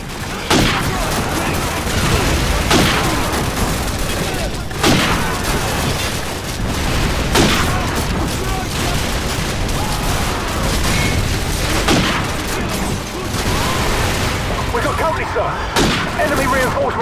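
Dense, continuous gunfire in the Call of Duty 4: Modern Warfare game, loud rapid bursts and booming shots overlapping without pause, with voices calling out under the din.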